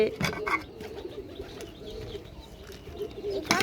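Soft, low cooing from pigeons on a rooftop murmurs continuously at a moderate distance, with a few brief rustles and clicks around it.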